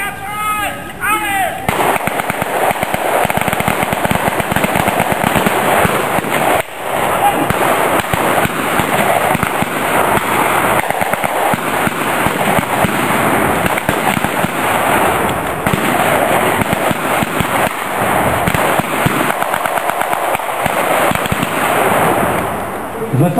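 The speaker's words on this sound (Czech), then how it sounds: "Z lesa se ozval těžký kulomet" Heavy machine gun fire from a forest at a historical military reenactment of a Czechoslovak mobilisation in Břeclav, with dense, continuous loud bursts of shots and pops outdoors, under intermittent voices.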